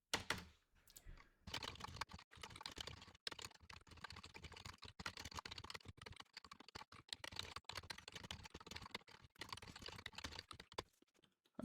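Code being typed on a computer keyboard: a long, fast run of close, crisp key clicks with brief pauses and a few heavier thunks, no talking.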